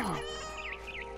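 A cat in the video game What Remains of Edith Finch gives a short, clear, close meow, followed by warbling, whistly game tones over a steady background hum.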